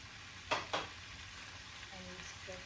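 A pan of stir fry with onion, pepper and a crumbled seasoning cube sizzles steadily and fairly quietly. Two quick scraping stirs cut in near the start, and a faint voice murmurs in the background.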